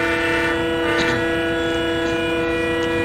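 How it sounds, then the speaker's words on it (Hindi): Rajdhani Express passing in a train video game: a sustained, loud horn tone rides over a continuous rolling rumble of the train throughout. "लगता है राजधानी एक्सप्रेस हमको भाई ओवरटेक करेगी"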